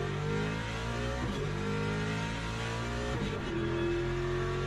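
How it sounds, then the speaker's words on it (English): Sim racing race car engine revving steadily under load, with two quick upshifts audible as brief pitch drops around the one- and three-second marks, loud and continuous with no talk. "That's the double upshift"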